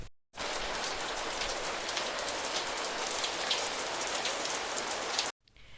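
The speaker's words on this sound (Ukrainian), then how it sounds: "І це звук був дощику." Steady rain pattering on a surface, a dense continuous hiss of drops lasting several seconds, fairly close, with no voices.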